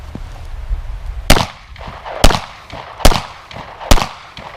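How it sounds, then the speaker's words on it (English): A 9mm pistol fires Hornady Critical Duty 135-grain ballistic tip rounds outdoors, four loud, sharp shots spaced roughly a second apart, each with a brief echoing tail over low background noise. "Again, we'll start with our 9mm, but this time we'll use Hornady critical duty ammunition."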